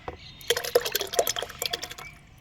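Juice pours into water with a run of irregular splashes and gurgles, close by, for a couple of seconds with no talking.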